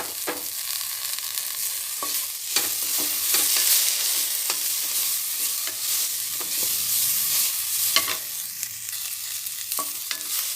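Coriander stems frying in a pan for homemade tomato soup, a soft continuous sizzle broken by repeated clinks and scrapes of stirring, fairly quiet with no talk.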